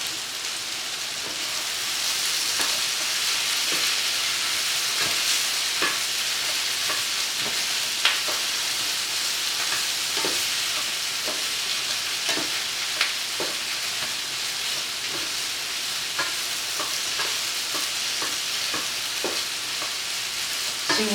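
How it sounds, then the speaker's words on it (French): Pork steak fries in a buttered pan, a steady close sizzle with scattered crackles and pops throughout and no talking. "mon steak de porc dans le poêlon, là, ça a commencé à cuire déjà"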